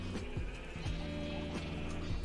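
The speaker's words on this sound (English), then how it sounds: "the sheep are pretty jam-packed" Flocks of sheep in a crowded pen in a Minecraft-style survival game bleat repeatedly, several overlapping calls in quick succession, faint beneath steady background game music.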